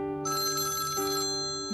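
A telephone rings on the other end of a call that is slow to connect, a steady electronic ringtone with sustained bright tones that holds evenly through a short stretch, with no voices over it.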